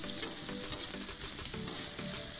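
Chopped onions frying in a pan for dhaba-style egg gravy, a loud, steady sizzle with faint stirring, and no talking.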